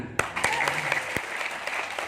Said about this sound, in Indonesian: Coba sekarang tepuk tangan.